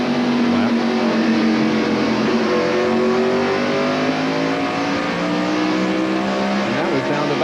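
A 1993 NASCAR Winston Cup stock car roars loudly around North Wilkesboro Speedway, its engine pitch climbing steadily as it revs high on the front stretch, with commentary and crowd-like race noise running continuously beneath it.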